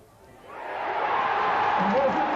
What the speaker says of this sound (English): He's got to listen for the cheer.